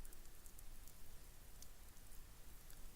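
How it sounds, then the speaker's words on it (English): Rain as a visual novel sound effect: a quiet, steady wash of falling rain with faint pattering drops, continuous and even with no voices. "Rain. It's rain."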